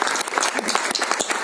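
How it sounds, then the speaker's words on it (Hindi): Audience applause at a film trailer launch press meet: dense, steady clapping from a crowd, loud and close throughout. "जोरदार तालियां for ladies and gentleman for his parents who have made it here."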